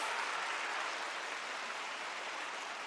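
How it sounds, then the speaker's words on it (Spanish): Church congregation clapping together in a steady, dense burst of applause that stays even and moderately distant, with no voices on top. "Fuerte ese aplauso a Él"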